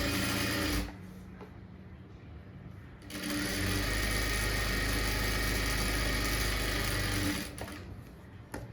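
A sewing machine stitches a fold on a blouse seam during a tailoring lesson, running in loud steady bursts with a short pause near the start and another near the end, and no talking.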